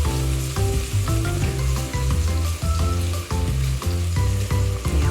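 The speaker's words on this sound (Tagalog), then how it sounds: "Papupulayin lang natin ang sibuyas guys." Onions and garlic fry loudly in a pan in a cramped kitchen, with a dense crackling sizzle under a rhythmic tonal pattern that sounds like background music.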